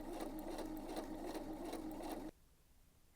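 A sewing machine stay stitches the neckline of a tank top, a close, steady rapid whirring for a couple of seconds that stops abruptly into near silence.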